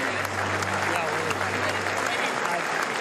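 An audience of about 5,000 guests applauds a scene between Zelensky and an American WWII veteran, a steady bed of clapping with a voice speaking over it for the first two seconds.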